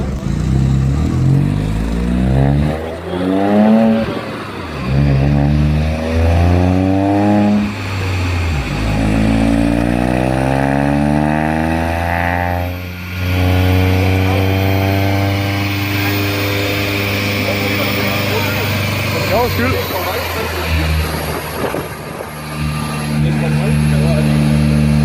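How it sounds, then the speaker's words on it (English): A Ford Fiesta Mk7 ST-Line 140 with its rear muffler removed runs on a dyno, with loud, close engine roars climbing through the revs in repeated rising pulls and dips. Voices talk over parts of the run. "I got a video of my car on a dyno"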